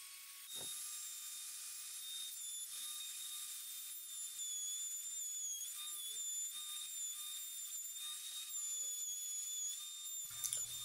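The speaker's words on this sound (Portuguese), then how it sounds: "Eu já tirei o grosso e com a tupia eu faço mais para finalizar o acabamento." A wood router runs continuously at high speed with a thin whining tone while finishing a hole in a wooden Montessori bed, and faint scraping comes from the cut beneath the whine.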